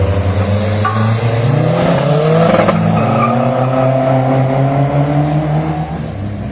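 A 1600 race car launches and accelerates hard over a 200 m run, its loud engine note climbing steadily in pitch through the gears, close and continuous with a brief tire chirp.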